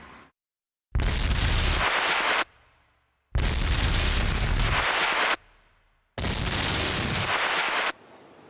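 Three separate loud blasts from a recreated Gunpowder Plot gunpowder explosion, each a huge sudden boom with a roaring wash lasting about a second before a short decay, with near silence between them.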